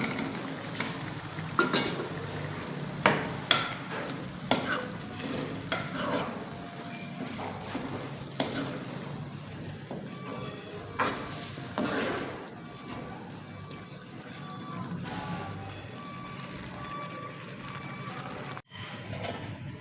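Minced meat and potatoes sizzle and fry in a pan for an aloo qeema dish, with a steady close hiss and repeated scraping clicks of stirring at irregular intervals, no speech.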